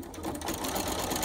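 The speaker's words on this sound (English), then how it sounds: "the last thing I'm going to do with this for now is just top stitch across the top" Sewing machine running fast in one short continuous burst while top stitching across the top of a fabric tote bag, close and fairly quiet, with no talk.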